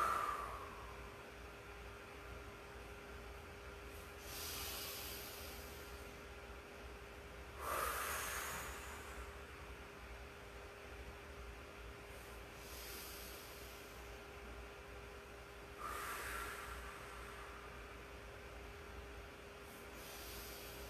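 Exaggerated, deliberately loud breaths during a seated chair stretch, a few drawn-out breathy swells spaced several seconds apart over a steady low hum, with no talking.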